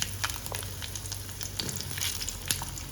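Shallots dropped into hot oil already crackling with mustard seeds, urad dal and asafoetida for a Chettinad cluster-bean pachadi, giving a steady close sizzle with small pops and stirring ticks throughout.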